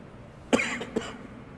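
Two coughs from one person in a quiet room: a loud, harsh first cough, then a shorter, weaker one about half a second later.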